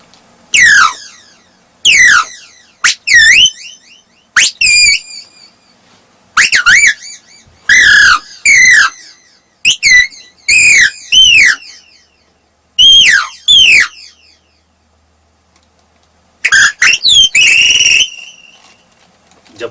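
A man imitates a parrot's call with his voice, producing repeated sharp, shrill whistling squawks in short bursts separated by pauses, loud and close.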